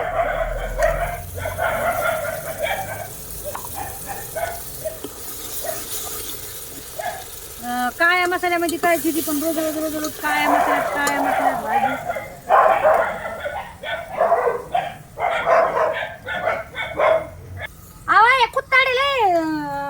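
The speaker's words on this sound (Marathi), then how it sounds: "तुम्ही मला सांगितलं कुत्रे भुकायला येतात" Dogs bark and yip in short bursts behind steady conversation, with a few higher whining yelps; the barking sounds moderately close and comes and goes.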